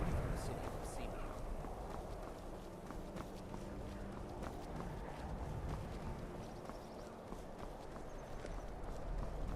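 Horse hooves in Skyrim clip-clop at a steady trotting rhythm throughout, fairly close, over rumbling background noise.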